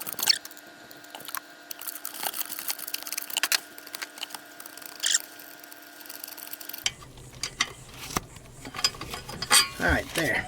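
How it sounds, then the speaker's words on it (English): Metallic clicking and ratcheting of a wrench working a bolt loose on an Onan 7.5 DKD diesel generator, a steady mechanical tone for the first part, then irregular scraping and clanks close by. "let me undo this bolt here, find a wrench to fit that"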